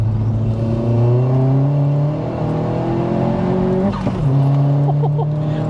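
Self-built 310 bhp Vauxhall Astra VXR engine revving loudly through the gears, with rising engine tones, a quick drop at an upshift and a sharp pop, heard steadily from inside the car.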